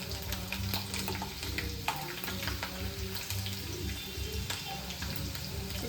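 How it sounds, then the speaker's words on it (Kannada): Hot oil crackles and spits in a pan while avalakki (poha) is being cooked: a steady sizzle scattered with small sharp pops, close and moderately loud. "ಇದು ಚಟಪಟ ಮಾಡಾಕತ್ತೈತಿ ನೋಡ್ರಿ"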